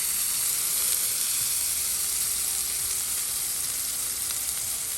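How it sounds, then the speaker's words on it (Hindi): A jalapeno beef burger patty shallow-fries in a little oil, making a constant, fairly soft hiss and crackle that holds evenly, with a faint tonal hum partway through. "मैंने थोड़ा सा ऑयल डाल शैलो ही फ्राई किया है इसको।"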